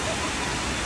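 Huangguoshu waterfall in Guizhou roars with heavy spray, a loud, unbroken broadband rush filling the short moment without pause.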